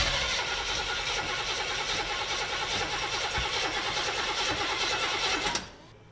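An affordable muscle car engine cranks and sputters trying to catch, a rapid rhythmic churning held for several seconds before it cuts off abruptly into near quiet.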